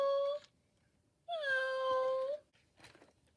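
Two electronic-sounding meows from a robotic toy plush cat, the second long and drawn out, with a short faint chirp afterward; clean and close with silence between.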